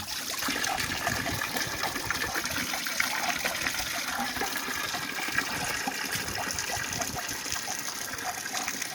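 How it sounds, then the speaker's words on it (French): Cold spring water coming down from a hillside on a family farm in the Pays de Sault flows and gushes continuously, a dense steady rushing close by with no voices. "Ça, c'est de l'eau qui vient de la colline, tu vois, elle est fraîche."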